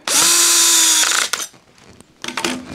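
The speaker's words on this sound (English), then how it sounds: "we'll tighten up the band clamp" A band clamp on a dust collection hose is cinched tight with a power driver, giving a loud, steady whining buzz for about a second, then brief clicks and a shorter second burst of whirring.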